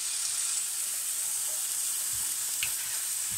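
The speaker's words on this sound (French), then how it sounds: "Toujours dans la même poêle, je remets mes oignons et j'en rajoute mes tomates concassées." Onions and crushed tomatoes fry together in a pan for homemade pizza topping, giving off a steady, even sizzle and hiss with faint stirring scrapes, close and continuous, no voices.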